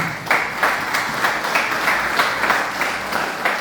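A church congregation claps together for about three and a half seconds, a dense, even patter of many hands at a steady rhythm, fairly close and loud.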